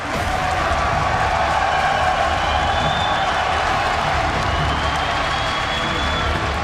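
A large indoor crowd at a StarCraft 2 grand finals at BlizzCon roars and applauds continuously, a dense wash of cheering and clapping that holds steady throughout.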